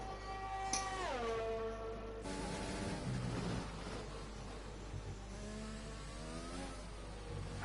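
A Formula 1 car on soft tyres during a hot qualifying lap in an F1 racing game at the Russia circuit, its engine revving high, dropping in pitch through a gear change and climbing again, steady and fairly close, with no talk.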